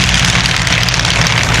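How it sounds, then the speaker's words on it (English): Steady, loud drone of a Nanchang CJ-6 trainer aircraft's 285 horsepower radial engine, heavy and low, running continuously up close with no pauses. "Featuring a 285 horsepower radial engine"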